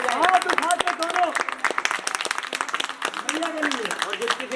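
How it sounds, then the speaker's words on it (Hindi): Audience at a Hindu jagran devotional night clapping along in steady rhythm, the claps mixed under sung or spoken voices and music throughout. "एक बार भैया के नाम की ओर ताली बजाएं"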